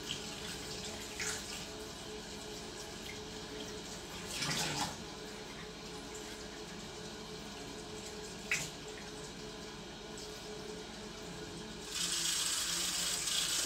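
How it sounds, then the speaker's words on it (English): Tap water runs in a light, steady stream while a wig is gently rinsed under it, with a few louder splashing surges where the flow hits the hair and a heavier gush near the end. "Now I will just kind of put the water on a light stream and just also very gently start to"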